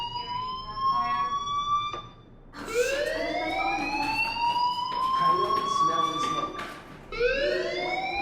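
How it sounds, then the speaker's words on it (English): A fire alarm in a video game wails in repeated rising sweeps, loud and shrill with short gaps between cycles, while a person talks over it. "Hey, do you hear that fire alarm?"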